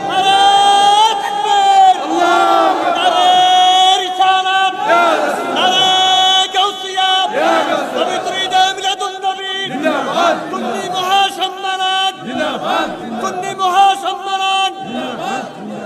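A large crowd at a religious sermon in Chandina chants slogans in loud, rhythmic call-and-response bursts, voices swelling together and breaking off between phrases.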